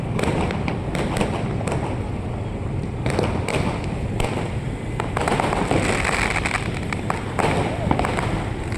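Firecrackers burst repeatedly in sharp, irregular cracks, some close and loud, over a steady crowd murmur with voices talking, at a harbour at night as fishing boats set out after a trawling ban ends.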